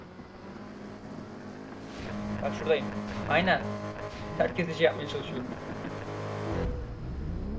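A car engine in a racing video game drones steadily as a continuous low hum beneath someone talking.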